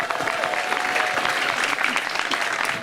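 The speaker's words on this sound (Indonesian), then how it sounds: "Pertama-tama tepuk tangan untuk Jabadi dan untuk Agus." An audience at a stand-up comedy league show claps for two comedians, a thick, even wash of applause that carries on without a break.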